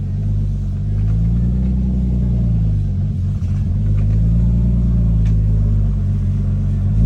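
A Lexus SC300 with a manual swap and its wheels off the ground idles in first gear, a loud, steady low rumble with slow rises and falls in engine pitch, close by and with no talking.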